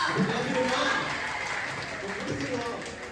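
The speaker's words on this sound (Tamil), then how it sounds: "இப்பவே கை தட்டியிருக்கேன்" An audience at a Pongal debate show applauds in a steady, sustained wash of clapping that holds for several seconds and fades slightly at the end, with voices mixed in beneath it.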